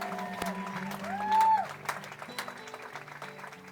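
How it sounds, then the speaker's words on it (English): Crowd applause for homecoming representatives at a high school football game, steady clapping with a swell near the middle, mixed with band or PA tones and some background voices. "Let's give one more round of applause for our 2025 homecoming representatives."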